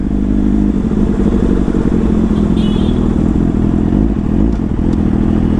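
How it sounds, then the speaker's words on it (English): An inline-four motorcycle engine idles and runs loud and close, with a dense, continuous low rumble that holds steady throughout, a little mechanical clatter on top, and no talk. "What inline 4 melody"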